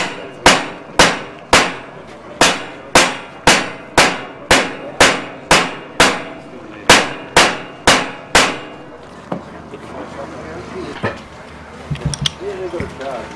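A hammer strikes a metal pulley in about seventeen loud, evenly spaced ringing blows with a brief pause midway, followed by quieter knocks and clatter as talk starts.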